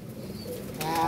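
Domestic pigeons coo softly in a loft, a low throaty murmur over faint background noise, with a brief rustle near the end.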